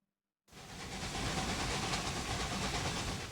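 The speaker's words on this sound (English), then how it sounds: "We've got a train arriving at Buffalo with a lot of stuff on it." Train arriving at Buffalo station in the railway strategy game Railroad Empire 2, a steady rolling rumble with hiss that starts after a brief silence and holds at an even level.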